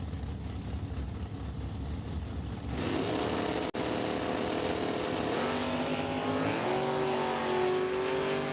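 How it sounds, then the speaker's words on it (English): A 1996 Camaro drag racing off the start line at a strip, a steady engine drone that swells into a louder roar as it launches, with pitch climbing as it pulls away. "So the Camaro will leave the start line first."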